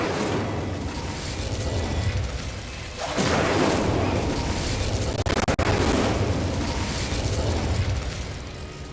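Incendio fire spell cast in Hogwarts Legacy, a dense roaring rush of flame and magical effects that swells loudly partway through and stays loud, with a couple of sharp clicks near the middle.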